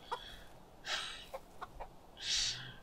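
A hen clucks in the medieval farming game Medieval Dynasty, giving several short, close clucks followed by a louder drawn-out squawk, with no talking.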